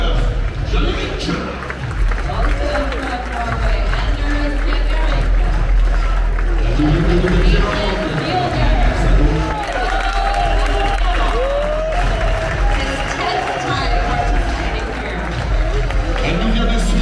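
A crowd at the start of the Marathon du Mont-Blanc 2022 applauds and cheers in a loud, continuous wash of noise, with an announcer's voice running over it throughout.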